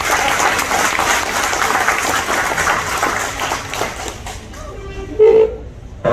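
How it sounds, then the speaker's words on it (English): A crowd applauds a winner at a fishing tournament awards ceremony in Galveston, Texas, with steady, fairly loud clapping for about four seconds that thins out, followed by a brief voice. "Give him a big round of applause."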